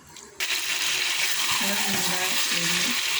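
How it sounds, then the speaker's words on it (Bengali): Chicken cooking in a pan with spices for kosha, starting with a loud, steady close sizzle that kicks in sharply after a quiet moment, with faint stirring and soft background voices. "মশলার সাথে কষিয়ে নেব।"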